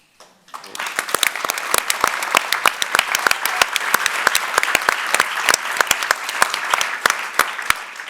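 Audience at a philanthropy forum claps after a short silence, starting suddenly and building into loud, dense applause with distinct close claps standing out, continuing steadily to the end.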